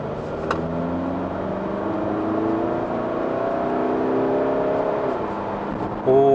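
A diesel Volkswagen Tiguan engine revs hard in sport mode, a steady close droning whir climbing and holding in pitch, then shifting down near the end, with no talk over it.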